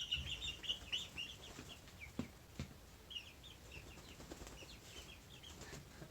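Five-week-old baby chicks moving about in a garage, with continuous rustling, wing flapping and scattered soft clucks and cheeps, steady and close throughout.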